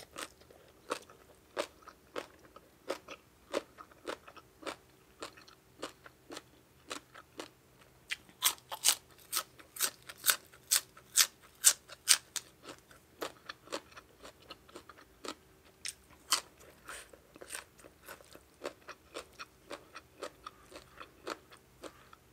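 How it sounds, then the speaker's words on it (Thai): Someone eats spicy papaya salad with crispy fried pork belly, close crunchy bites and chewing clicks coming in a steady irregular rhythm, bunching into a faster run of loud crunches midway, with no talking. "ส้มตำเผ็ดๆเลยจ้าได้กินกับน้ำลายแตกแล้วล่ะ"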